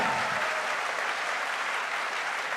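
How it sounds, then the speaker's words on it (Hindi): An audience claps loudly and continuously at a direct-selling promotion event, a dense, sustained burst of applause with no voices over it. "एक बार जोरदार तालियां होनी चाहिए रूट प्योर के लिए"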